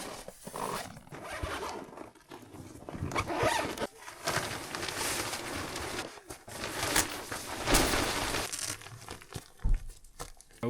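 A tent door zipper is drawn open in several long pulls at a New Year ice-fishing camp, close and crisp, with fabric rustling and crinkling between strokes and no speech.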